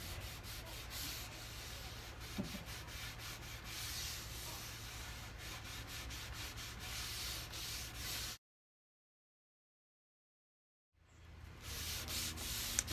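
Steady, close rubbing of finish into a wooden farmhouse coffee table by hand, a continuous soft friction that runs for about eight seconds, stops abruptly in silence, then resumes.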